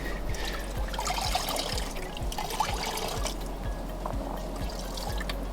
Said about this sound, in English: Now it's going to wring it out lightly.